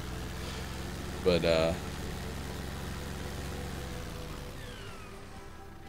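A Case tractor in Farming Simulator 15 idles with a steady low engine drone throughout, while a voice speaks briefly over it.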